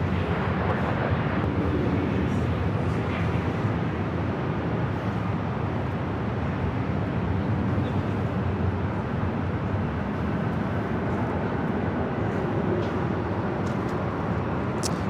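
An airliner landing on runway 24 right at LAX at night produces a steady, broad, rumbling roar of jet engines that holds unchanging and fairly loud from start to finish.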